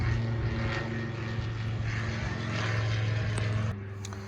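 A propeller airplane drones overhead above a houseboat at a duck camp, a steady loud engine hum with a harmonic whine that cuts off abruptly near the end.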